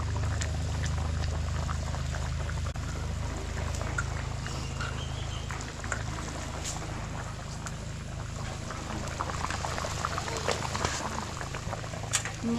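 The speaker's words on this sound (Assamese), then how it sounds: "এইখিনি আৰু অকণমান উতলিব দিম" A pork curry boils in a pot with a steady, close bubbling and simmering roar. Sharp pops and crackles come through now and then, and the sound holds at a constant level throughout.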